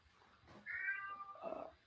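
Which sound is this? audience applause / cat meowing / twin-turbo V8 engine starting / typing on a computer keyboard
cat meowing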